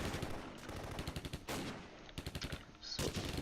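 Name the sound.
gunfire shooting down Soviet infantry in Close Combat video game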